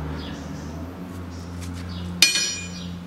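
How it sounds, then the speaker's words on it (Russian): A fuel line quick connector is released on a 2009 Ford Focus II 1.6 during fuel pump replacement, giving one sharp, close plastic click over a steady low hum. "не откручиваем, а разъединяем вот эти два быстросъема"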